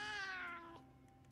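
Companion cat meowing in the Monster Hunter Wilds video game, a single clear, drawn-out meow with a falling pitch, close and alone.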